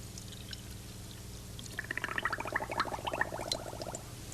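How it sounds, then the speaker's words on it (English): Coffee pours into a cup, then a burst of rapid bubbling begins partway through as air is blown through a straw into the coffee, fairly close and soft. "I hold that in the cup and I blow down it while I fill the cup"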